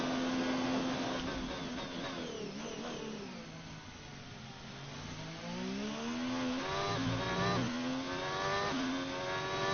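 Ferrari F1 car engine on the German GP circuit in F1 2019, a loud continuous high-pitched whine rising and falling through gear shifts, dipping midway and then climbing again under acceleration.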